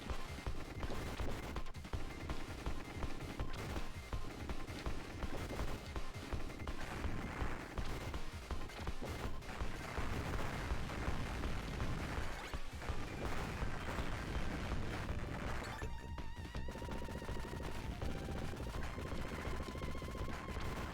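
Rapid bursts of missile and gunfire in a Sega Mega Drive shooting game, dense crackling volleys repeating loudly and steadily with occasional heavier booms over game music.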